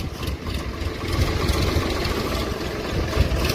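A tractor engine runs at a steady, loud drone in a cotton field while fertiliser is spread, rumbling continuously without pauses.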